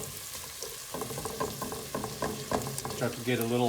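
Diced onions sauté in a hot pan with a steady sizzle and crackle that swells after the first second. A voice talks over the frying throughout, and a brief clink of stirring comes near the end.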